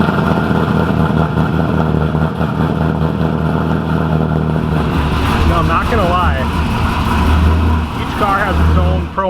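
A Pontiac WS6 car engine hums steadily from inside as the vehicle drives along, with occasional squeaky chirps and a voice speaking over the road noise.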